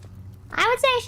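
A voice imitates a car tire drifting, a short rising screech that climbs in pitch and then holds as a bright, squealing tone, close and fairly loud, lasting about half a second.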